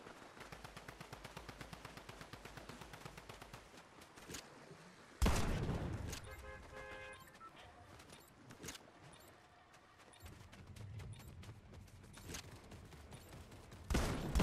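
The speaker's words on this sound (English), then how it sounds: "Oh, this is a shotgun." Fortnite gunfire begins with a rapid, even train of shots, then several loud isolated blasts at irregular intervals, all fairly close and punchy, with game sounds in the quieter gaps.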